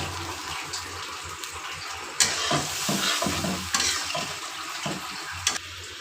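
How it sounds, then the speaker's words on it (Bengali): A spice mixture with chilli powder and a splash of water stirs and sizzles in a pan for a Bengali tomato fish curry, with soft scraping strokes and bursts of frying close by. "আবার একটু নেড়ে আরও কিছুক্ষণ রান্না করব"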